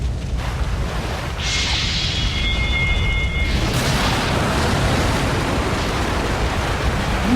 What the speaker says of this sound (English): Explosion, so wird man zum Türmchen geleitet.